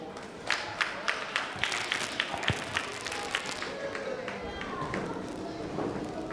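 Applause at a 2023 preschool and primary graduation ceremony opens as evenly spaced claps, then spreads into a softer, diffuse patter from the audience, with voices murmuring underneath.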